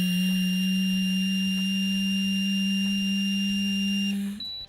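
A Smart Start breath alcohol interlock device sounds a steady electronic tone with a low hum beneath, held for about four seconds before cutting off with a brief higher beep at the end.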